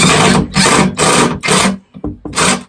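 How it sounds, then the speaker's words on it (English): A power driver screwing the top onto a knock-down wooden dog kennel, loud close whirring in four long bursts with brief pauses and a couple of short stutters near the end. "is screwing the top in place"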